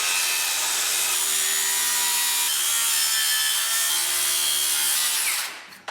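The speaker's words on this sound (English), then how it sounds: "we're going to cut through it from the bottom" Wood being sawn from the underside while building a workbench, a steady continuous rasping cut close up and loud, running without a break before tailing off at the end; no voices.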